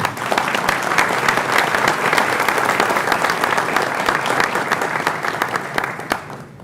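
Audience applause at the opening ceremony of a judiciary governance forum, dense steady clapping from a large crowd lasting throughout and tapering slightly at the end.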